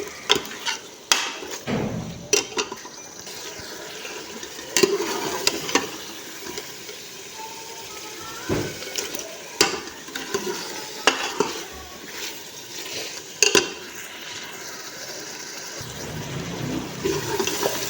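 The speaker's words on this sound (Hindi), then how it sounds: "अब हम इसकी अच्छे से भुनाई करेंगे।" Food is stirred and roasted in a pan for an Indian home-cooked recipe: a steady sizzle runs throughout, broken by repeated sharp clacks and scrapes of a spoon against the pan at irregular intervals, with no speech.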